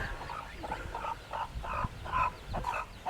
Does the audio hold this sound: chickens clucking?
yes